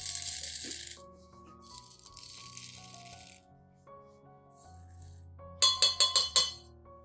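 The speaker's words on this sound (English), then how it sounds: "Then add 3 tablespoons of rice to the cup." Rice grains poured into a clean glass cup, giving a run of bright clinking rattles that builds into several sharp close pings near the end, with no voices present.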